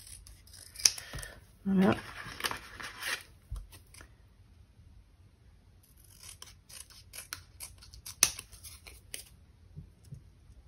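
Scissors cutting paper for a pop-up card, several snipping bursts separated by pauses, close and crisp, with a brief spoken word near the start.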